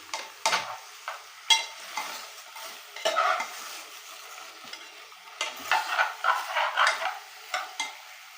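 Onions and taro (arvi) frying in a hot oil tempering, a soft steady sizzle broken by repeated scraping stirs of a spoon against the pan, close and unhurried with no talk.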